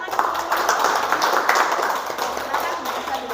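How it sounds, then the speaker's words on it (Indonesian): Classroom applause for a student group in an Indonesian language lesson, students clapping steadily with a few sharper claps standing out for several seconds. "Tepuk tangan"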